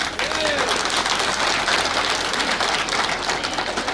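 Guests at a Buddhist-tradition wedding ceremony clap together in a sustained, even round of applause that fills the whole stretch at a steady level, with crowd murmur mixed in.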